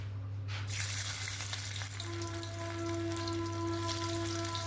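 Garlic, ginger and green chili fry in oil for soybean chilli, giving a constant soft sizzle over a low electrical hum with faint tonal ringing. No one speaks.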